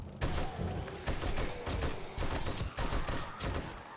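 M60 machine gun in the 7 Days to Die game firing in dense repeated bursts, loud and close, with brief gaps between volleys and no talking.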